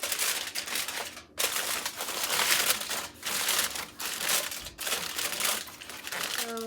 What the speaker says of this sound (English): we're gonna go in with some foil. And you're just gonna cover it up really well